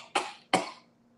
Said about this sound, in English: I got a cough, too.